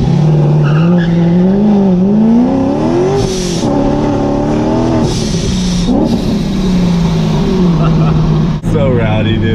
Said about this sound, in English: should we do a little street launch?